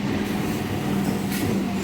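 Railway station ambience, a low steady rumble and murmur filling the platform, loud and continuous over a short stretch with no clear voices.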